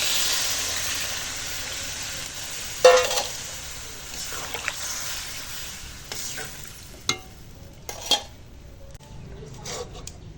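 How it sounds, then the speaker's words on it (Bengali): Chicken meat being stir-fried in a pan after long browning, a soft ongoing sizzle broken by several distinct scrapes and clanks of a spatula against the metal, close and without speech. "মাংসটা অনেক সময় কষিয়েছি দেখো এবার লেগে যাবে তলায়"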